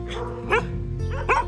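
Portuguese water dog barking, two pairs of short, close barks over a steady low hum, with no talking.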